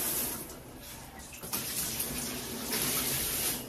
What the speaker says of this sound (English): it also has this really cool mist feature, which broadcasts very wide, including out onto the floor